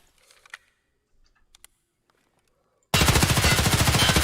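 A rifle fires in single-shot mode in Escape from Tarkov: after near silence with faint clicks, a loud, rapid series of close shots begins abruptly and keeps going to the end.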